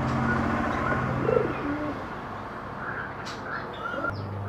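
Archangel and Karbona cross-bred pigeons coo softly nearby, one low rolling coo standing out early, set against a dull continuous background hum with faint chirps later.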